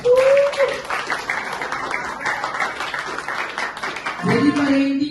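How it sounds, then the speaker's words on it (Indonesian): Applause from a small class for a student named Cika during a high school lesson, a steady moderate clapping wash lasting several seconds, with a voice speaking briefly at the start and end. "Oke, kasih tepuk tangan buat Cika."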